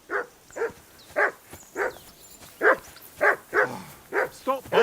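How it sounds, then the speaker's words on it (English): A dog in Kingdom Come: Deliverance II barks repeatedly in a steady rhythm, about ten close, sharp woofs over roughly five seconds. "Call off that mutt of yours!"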